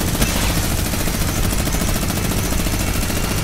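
Gunfire in the game Air Royale rattles on as a constant, loud, dense barrage, an even stream of rapid shots with no gaps across the whole stretch.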